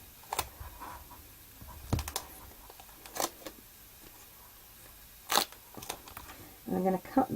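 Scissors cutting straight across paper card for a wedding guest album, a few sharp snips and crisp paper rustles spaced apart, close and fairly quiet.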